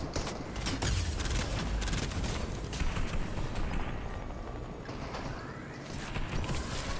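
Gunfire in the video game Fortnite, rapid bursts of shots layered over busy in-game action noise at moderate level, dense at the start and again midway.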